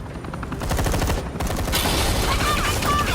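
Rapid gunfire from Batman: The Enemy Within crackles in dense automatic bursts, loud and continuous throughout, with sharp reports layered over a booming low rumble.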